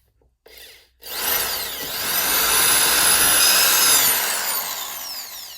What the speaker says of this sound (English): we're going to look to do is drill a hole at the top